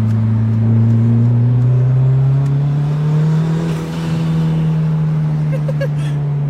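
A boosted car accelerates hard, its engine roaring loudly and steadily climbing in pitch for several seconds, close and dominant throughout.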